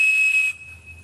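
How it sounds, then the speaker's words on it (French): Captain Crunch toy whistle sounding a piercing 2600 Hz tone, a single steady shrill blast that holds for about half a second and then drops to a fainter trailing whistle over low rumble. "Cet objet, c'est un sifflet Captain Crunch."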